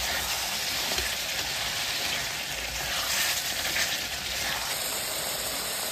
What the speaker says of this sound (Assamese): এইফালে ইয়াত ফ্ৰাই হৈ আছে